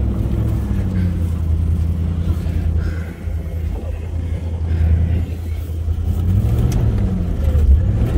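A car driven by a beginner on a first hill climb drones close and steady as the throttle is pressed, a continuous low engine rumble that swells slightly without sharp revs.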